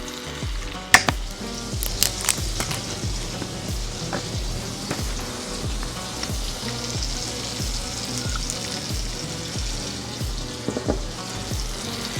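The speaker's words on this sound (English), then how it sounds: "Flip it one more time, just to make sure the steak is cooked all the way from the inside." Top sirloin steak seasoned with black pepper, salt and soy sauce fries in a pan with a steady, dense sizzle throughout, broken by irregular clinks and taps of a utensil against the pan, close and alone with no talk.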